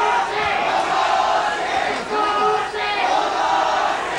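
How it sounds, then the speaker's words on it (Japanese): A large crowd at Korakuen Hall cheers and shouts for boxer Hideyuki Ohashi during a title bout, a loud continuous roar of voices with surging calls rising and falling. "大橋に対する大きな声援が飛び交っています後楽園ホール"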